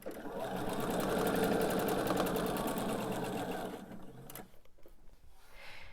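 A sewing machine chain pieces quilt blocks, a steady close whirring run of stitching for about four seconds that then stops, leaving faint handling noises.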